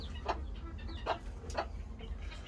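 Tiny bantam chicks cheeping in a small run, several short high chirps spaced apart over a low steady background hum, faint and fairly close.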